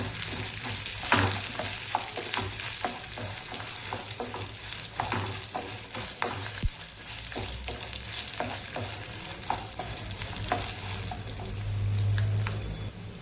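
Guntur and Byadgi dried red chillies fry in hot oil for a dry okra dish, giving a steady close sizzle broken by frequent scraping stirs and light clinks, with no talking.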